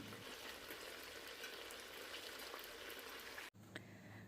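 Chicken fries in a covered pan with a dense, constant bubbling crackle, close and moderately quiet. The sound breaks off abruptly near the end and then resumes more faintly.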